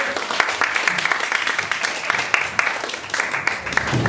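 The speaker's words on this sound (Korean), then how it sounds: "오늘 첫 번째 디자인 참가자 여러분 큰 박수로 청해 보겠습니다" Steady applause from a crowd, dense clapping continuing throughout at a fairly loud, even level.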